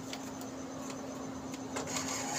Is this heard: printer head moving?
yes